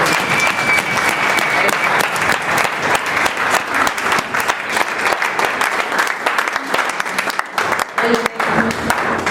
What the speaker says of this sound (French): Acclame un peu pour ce Seigneur là.